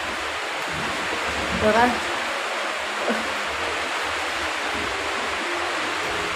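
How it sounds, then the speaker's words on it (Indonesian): Strong wind blows steadily outdoors at dusk, a broad continuous rush with a brief voice cutting in partway through. "anginnya kenceng banget nih"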